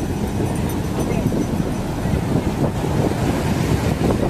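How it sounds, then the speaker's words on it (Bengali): Large waves break on Puri Beach after sunset as a continuous, loud surf roar, heavily mixed with wind buffeting the microphone. "এখানে বড় ঢেউ আসছে।"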